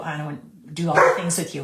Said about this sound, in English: I apologize for the dogs already. They're going to bark.